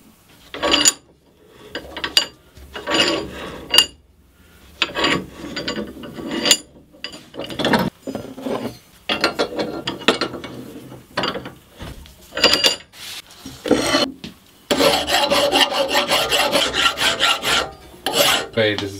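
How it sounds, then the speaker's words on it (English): A cast metal cone for a medieval tapered reamer being filed and then ground: bursts of harsh rasping strokes with gaps, later a denser continuous grinding roar, loud and close, no voices. "After casting, the cone is cleaned up and prepared for use. First by filing, later by grinding."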